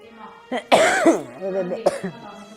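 A person coughs once, sharply, then clears their throat with a rough, throaty rasp; brief and close.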